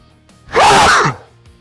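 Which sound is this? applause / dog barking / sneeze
sneeze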